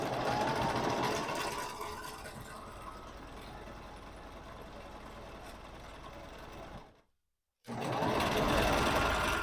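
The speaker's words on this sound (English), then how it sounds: "I'm just doing crazy stitching" Sewing machine running steadily at close range for free-motion crazy stitching, a continuous motor whir with varying speed, briefly stopping near the end before starting again.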